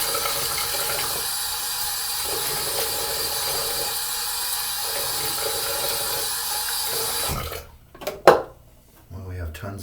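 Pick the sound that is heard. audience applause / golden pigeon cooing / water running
water running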